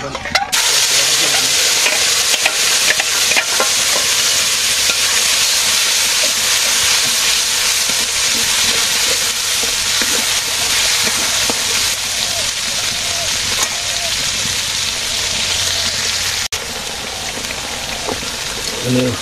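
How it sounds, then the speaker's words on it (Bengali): Cumin seeds sizzle and fry in hot oil in a pan, a loud, steady hiss that runs unbroken for the whole stretch, close up. "জিরা দিচ্ছি"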